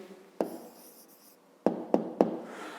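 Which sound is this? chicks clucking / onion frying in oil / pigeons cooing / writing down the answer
writing down the answer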